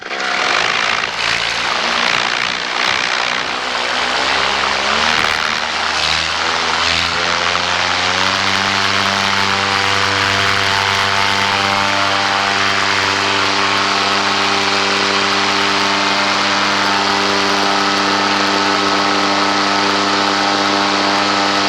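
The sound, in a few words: paramotor engine during takeoff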